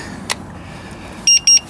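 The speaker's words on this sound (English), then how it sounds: "flick that lock," A Mobike bike lock snaps shut with a click, then gives two short, bright electronic beeps in quick succession, close and clear over faint outdoor background noise.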